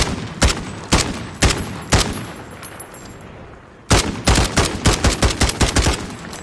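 Gunfire in Call of Duty fired in controlled taps: four spaced single shots, a brief pause, then a quicker string of close, loud bursts with sharp echoing tails.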